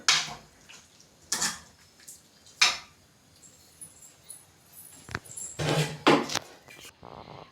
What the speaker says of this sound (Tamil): இப்போ அதில் தண்ணியை ஊற்றிட்டு